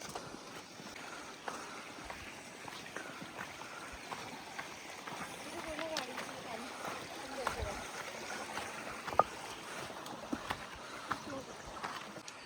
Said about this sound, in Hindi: पानी की आवाज़।